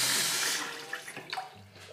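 A bathroom faucet runs with a broad, steady hiss of water that tapers off as the flow slows, followed by a few faint splashes and drips near the sink.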